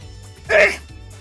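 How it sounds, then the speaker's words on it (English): A single sneeze bursts out loud and close, one sharp blast in the middle of an otherwise quiet indoor moment with a faint low hum underneath. "Hold on, I'm gonna sneeze."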